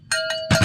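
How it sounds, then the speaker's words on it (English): A cowbell clanks three times in quick succession, close and fairly loud, each strike a short hollow metallic knock with a brief ring. "cowbells,"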